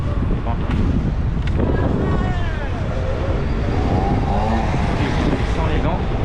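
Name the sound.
strong wind while riding a scooter from Monaco to Nice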